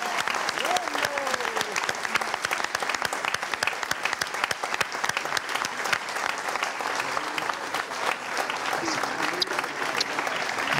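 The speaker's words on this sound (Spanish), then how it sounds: "Vamos a recibirla por un aplauso" A crowd at a Canarian parranda party applauds to welcome a woman on her son's fifteenth birthday, sustained, fairly loud clapping running for about eleven seconds with scattered voices and a few whoops underneath.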